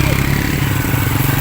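Motorcycle engine running steadily close by, a low, continuous idle-like drone with a regular pulsing throb, heard alone without speech over it.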